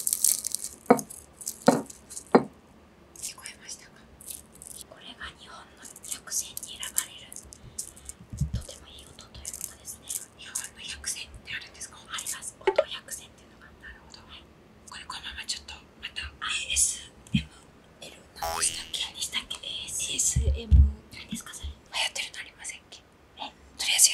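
Close-up crunching and chewing of crispy scale-fried tilefish (amadai matsukasa-age), with irregular crackly bites spread across the stretch and soft whispering voices in between.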